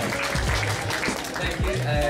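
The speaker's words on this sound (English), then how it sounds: "Can we have a round of applause just for the tie, please, everybody?" An awards-evening audience claps in a scattered, moderately loud burst, with voices talking over and through the applause.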